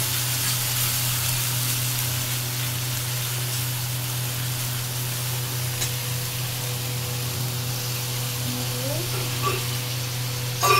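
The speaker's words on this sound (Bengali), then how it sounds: "রসুন বাটা দিয়ে নাড়তে থাকবো।" Garlic paste fries in a pan with a continuous, fairly soft sizzling hiss over a steady low hum, lasting throughout with no clear speech.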